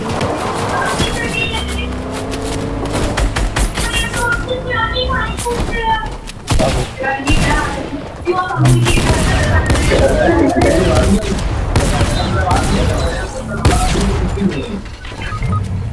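Fortnite gunfire crackles in rapid bursts and sustained volleys, loud and dense, mixed with game effects while players talk excitedly over it.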